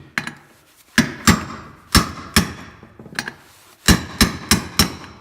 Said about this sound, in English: to pound this back in, I'm going to use the other end of that same socket we used earlier